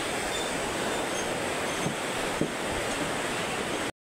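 The Roshi River (Roshi Khola) in Nepal, beside the storm-wrecked BP Highway, rushes past in a loud, steady roar of flowing water that stays unbroken and close throughout, with no voices.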